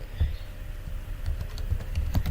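Soft, irregular keystrokes on a computer keyboard while entering text into an HTML form, a run of light taps close by with no talking.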